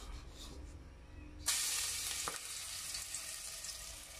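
Crushed garlic drops into a hot pan at about 1.5 seconds and breaks into a loud, steady sizzle that carries on to the end, with one brief clatter partway through.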